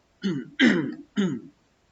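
Three short throat-clearing coughs from an adult man with a sore throat, giving a rough, rasping rhythm during a classroom lesson on computer systems, close and fairly loud, then quiet.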